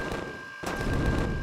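Spaceship turrets firing in the game Empyrion Galactic Survival, a dense burst of loud gunfire with a short gap, then sustained rapid shots.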